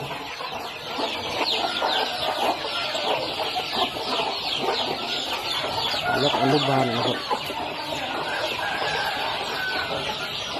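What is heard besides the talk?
chickens clucking on poultry farm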